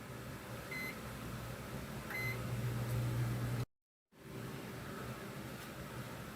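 A microwave oven hums steadily while heating soft plastic for pouring fishing lures, with a few short beeps and a brief dropout midway.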